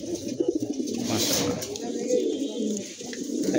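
An old-line master pair of pigeons coo in low, rolling pulses beneath steady background bird calls, with a voice speaking briefly over them.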